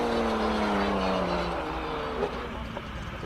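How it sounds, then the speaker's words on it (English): A VR6-powered first-generation Lotus race car climbs a hillclimb course, its engine a steady, fairly distant drone whose pitch slides down as it changes gear and then rises again. "At the bottom we have Craig Zank with the VR6 powered Lotus"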